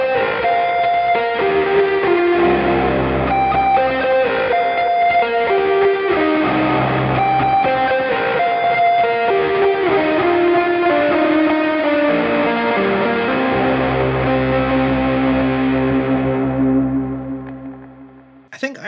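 Driven rock electric guitar tone through a Mooer Prime M2 multi-effects preset, a dense sustained chordal riff with ringing notes that plays alone, loud and continuous, then fades out near the end.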